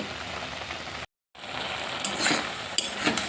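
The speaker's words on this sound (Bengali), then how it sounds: "খুন্তি করে এপিট ওপিট করে নেড়ে চেড়ে নেব নাহলে এক পিঠটা বেশি সিদ্ধ হয়ে যাবে" Water spinach being turned in a pan with a spatula as it cooks, a soft sizzle with scraping stirs, briefly cut by a short silent gap.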